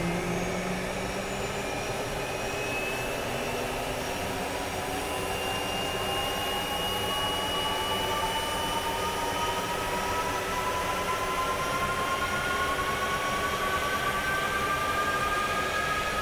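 A MiG-29S jet engine spools up during start-up in the DCS flight simulator, a steady loud roar with whining tones that rise slowly in pitch over sixteen seconds, no voices.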